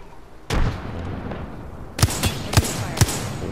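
Frag grenade blast in the Apex Legends video game, a sharp boom followed by several quick, punchy gunfire-like cracks, loud and close against a steady game background.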